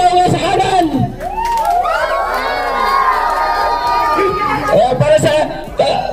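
A crowd shouts and cheers at a Jollibee feeding event in the Philippines, a loud sustained roar of mixed voices with children's high shrieks rising and falling for several seconds.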